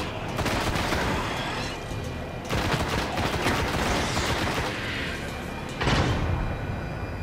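Assault rifle fire in the Destiny video game, sustained bursts of gunfire running dense and loud through the whole stretch, with a sharp blast or impact near the end.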